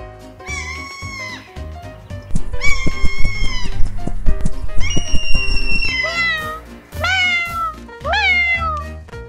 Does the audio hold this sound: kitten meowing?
yes